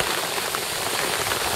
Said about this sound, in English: Pretty rainy out.